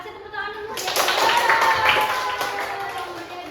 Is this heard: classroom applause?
yes